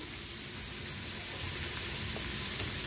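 Pork frying for adobo in a home kitchen in Molo, Iloilo City, giving a steady, dense sizzle that crackles evenly and fairly close for the whole stretch, with no talking.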